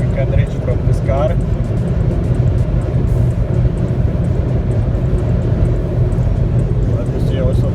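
A Jeep Renegade runs flat out at top speed on a straight road, its steady engine drone and road rumble loud and continuous from inside the cabin.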